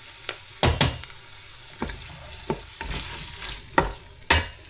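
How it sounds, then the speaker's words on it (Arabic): Tomato concentrate frying in a pan with boiled octopus, chickpeas and harissa for Tunisian couscous, a steady close sizzle broken by several sharp stirring scrapes at uneven intervals. "دابا غادي نقلي مزيان ديك الطوماط كونسونطري باش تمشي منها الحموضه."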